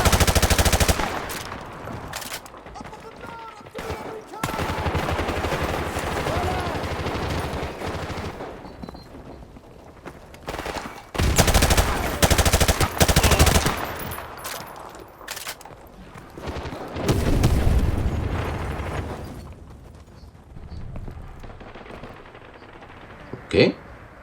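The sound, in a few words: machine gun fire in the video game Call of Duty 4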